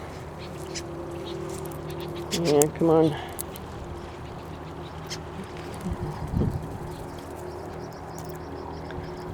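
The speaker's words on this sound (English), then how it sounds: "Bird fight." Birds squabble in a fight, with a pair of loud, harsh squawking calls close by and a shorter cry a few seconds later. A person speaks briefly over a quiet outdoor background.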